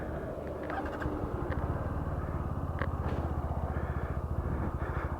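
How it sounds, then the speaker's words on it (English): A 2025 Bajaj Pulsar NS125 motorcycle with a 125cc engine runs at a steady idle, a low and even pulsing throb heard up close and alone. "So we'll turn it on and we're ready to go"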